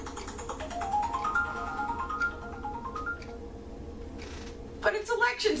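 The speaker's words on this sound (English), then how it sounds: "And the phone is ringing." A phone rings in a home kitchen with a rising electronic ringtone that repeats in steady bursts, moderately near, with faint background clatter and talking at the end.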